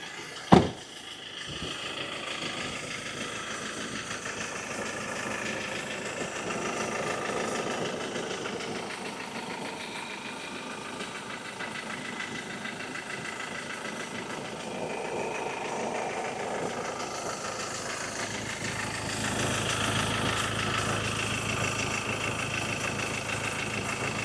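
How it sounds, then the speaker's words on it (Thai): A Ford Ranger Wildtrak 2.2 diesel pickup engine idles steadily at close range, a low continuous rumble with a mechanical chatter, after a brief sharp click at the start. "เดี๋ยวไปฟังเสียงเครื่องยนต์ด้านหน้าห้อง"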